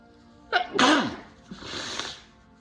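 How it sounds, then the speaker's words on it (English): A single loud, close sneeze: a sharp intake of breath followed by an explosive burst, then a softer trailing exhale. "I'm gonna sneeze."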